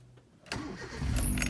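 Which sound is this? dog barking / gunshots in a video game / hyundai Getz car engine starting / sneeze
hyundai Getz car engine starting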